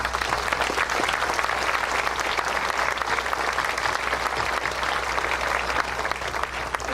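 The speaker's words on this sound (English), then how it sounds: "now we can applaud all of these individuals." A large audience applauds steadily at an anniversary celebration of the East Texas Oil Museum at Kilgore College. The clapping is dense, continuous and close, filling the room without pause.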